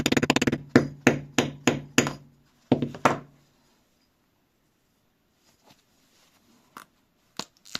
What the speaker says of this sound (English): I'll try to loosen it up with a wooden hammer.